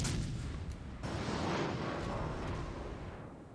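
Heavy battleship guns fire in the naval video game World of Warships Legends, with deep booming blasts and rumbling rolling continuously, loud and close, without speech.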